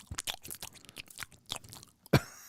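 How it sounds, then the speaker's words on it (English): Someone chews food in a close series of wet crunches and smacks, soft and irregular, with a louder bite near the end and no talk. "Sounds like somebody chewing on some mac and cheese or something."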